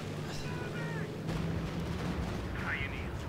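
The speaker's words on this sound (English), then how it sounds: "And there comes an airstrike." Explosions from an airstrike in the WWII strategy game Company of Heroes 2, loud rumbling booms over steady battlefield noise, with a voice talking over them.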